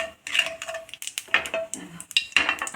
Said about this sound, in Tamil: இப்போ கடுகு பொரியுது நல்லா படப்படப்படான்னு